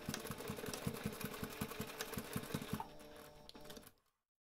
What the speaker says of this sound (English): So now we can take this to the machine and sew across that short edge.